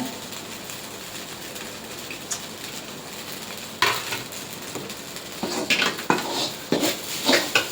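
Semiya being stirred with grated coconut in a pan: scattered metal spoon scrapes and clinks against the pan over a low, even hiss, the clatter louder and more frequent in the second half.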